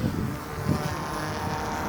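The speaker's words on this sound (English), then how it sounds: "So it's pretty windy out here" Windy outdoor air rushes as a steady broadband roar, with a faint motor-like hum from a micro RC helicopter (OMPHOBBY M2 EVO MK2) underneath, continuous for two seconds.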